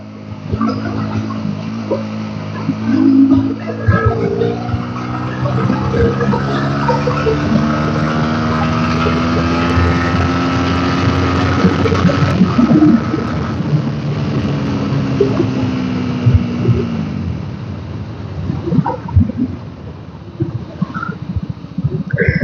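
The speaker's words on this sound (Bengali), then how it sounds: "তো তেল ভরার আগে গাড়িটা একটু ভাগিয়ে নিই, সাউন্ডটা কেমন আসছে একটু দেখে নিই।" A motorcycle with a rattling noise in its cylinder head is ridden fast on a road. Its loud engine note climbs and falls in pitch as the rider accelerates and eases off, with rushing wind close by.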